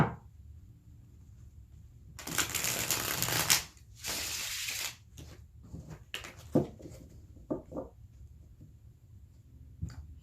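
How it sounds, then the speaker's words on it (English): Tarot cards are shuffled close up in bursts of crisp riffling and papery slaps, two long loud riffles followed by scattered softer taps and card flicks. "One more shuffle in here."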